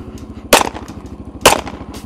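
Two sharp pistol shots, about a second apart, fired from a moving motorcycle at a paint can, loud and close over the steady low rumble of the running engine.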